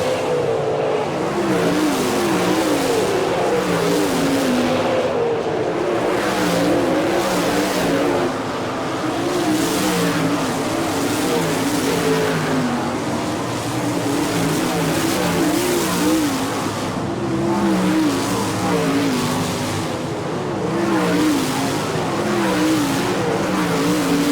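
Sprint or sprint-car style race cars roar around the Port Royal, Pennsylvania dirt track during an All Star Circuit of Champions Tuscarora 50, engines droning and revving steadily as a pack, loud and continuous throughout.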